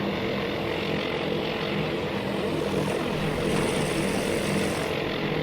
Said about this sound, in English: there's clearly a lot of aircraft coming home here